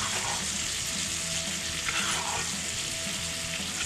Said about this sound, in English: we're going to take a spoon and we're going to baste this with that butter and shallot